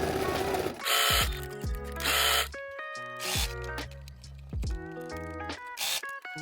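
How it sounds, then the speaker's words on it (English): Sewing machine stitching a shirt collar: several short, loud bursts of rapid mechanical stitching separated by pauses, with soft musical tones filling the gaps. "And then I'm gonna sew one of these onto the collar side"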